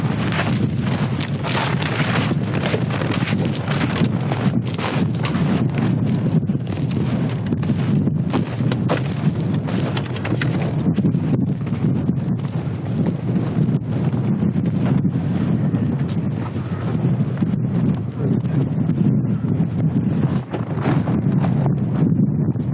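Strong wind gusting outdoors on the ice, a loud continuous rumbling buffet across the microphone that persists without letup, with no voices.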